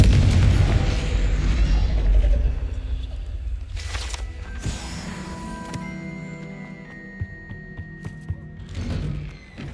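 A Confringo spell explosion in the Hogwarts Legacy video game: a loud, deep boom right at the start with a rumbling tail that fades over several seconds, followed by quieter game effects and a faint hiss near the end.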